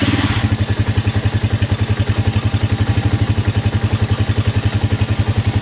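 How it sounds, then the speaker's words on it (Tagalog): Motorcycle engine idling nearby with a noisy flat slide carburetor and loud piston, a fast, even mechanical pulse with clattery ticking throughout. "maingay yung aking carburetor na flat slide. Guys, maingay talaga yung piston niyan."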